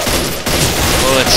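Semi-automatic gunfire from stalkers in STALKER: Call of Pripyat with the Misery mod, a loud, dense burst of shots that breaks briefly and then resumes in a short, close volley.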